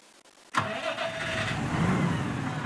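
An old tractor engine in Farming Simulator 2017 starts up after a moment of silence, then runs at a steady, loud idle with a rough low rumble and a faint whine.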